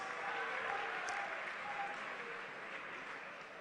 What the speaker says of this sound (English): Yes, it deserves a round of applause,